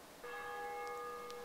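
In the video game DayZ at night, a church bell sounds one soft, faraway stroke that lingers as a steady ringing tone, with a couple of faint clicks behind it.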